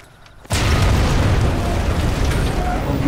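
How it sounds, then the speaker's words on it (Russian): A sudden loud explosion in the video game Sniper Elite 4 bursts in after a brief quiet moment, followed by a heavy, sustained rumbling roar that slowly thins out. "Давайте посмотрим на этот грандиозный взрыв."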